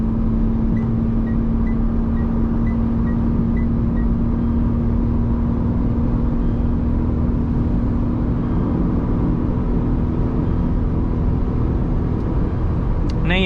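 Steady engine drone from a Tata Tiago i-CNG with automated manual transmission after a downshift, a continuous low hum and road rumble holding level throughout, close and loud with no talk over it.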